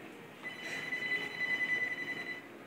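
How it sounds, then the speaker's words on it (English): A phone ringing steadily throughout in a small indoor space, its tone moderately loud over a low background hum, with no talk heard. "His phone is ringing."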